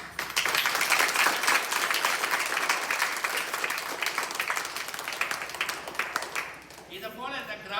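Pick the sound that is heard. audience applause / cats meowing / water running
audience applause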